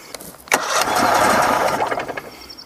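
A Mercury 60 hp outboard engine cranks and catches in neutral, a sharp start followed by a loud, steady running roar that wavers slightly as it settles, close by with no talking.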